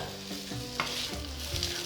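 Zucchini sizzle in hot oil in a cast iron pot with garlic, a loud, close, crackling fry with stirring scrapes and brief flare-ups, heard alone.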